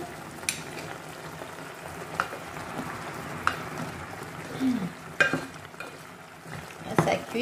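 Sauce for a salted dried tilapia dish simmering in a pot, a low bubbling sizzle with occasional utensil scrapes and taps against the pot, fairly quiet and close.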